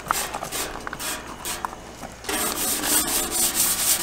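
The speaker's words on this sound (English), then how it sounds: "While Angela is finishing doing the hand scrubbing stuff" Close, steady scrubbing by hand on an old 1964 Cub Cadet 122 garden tractor, with repeated rough rubbing strokes that grow slightly fuller partway through. No one speaks.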